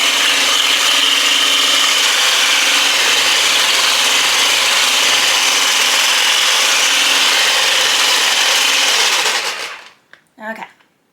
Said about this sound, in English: you need to scrape out the sides so you're not getting like random pieces of flour everywhere